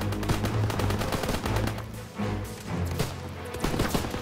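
In a Call of Duty WWII battle, machine gun fire rattles in rapid, dense bursts. Other gunshots layer in, and the loud, sustained barrage continues with only brief dips.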